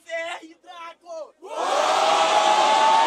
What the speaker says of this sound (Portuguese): Quando a rima é boa, a galera grita